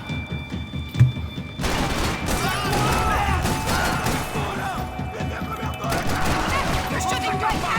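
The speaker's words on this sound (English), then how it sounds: "You're shooting right at me!" Gunfire in the video game Max Payne 3, a dense, continuous barrage of shots and crashing impacts filling the whole stretch, with a sharp bang near the start over a busy game soundscape.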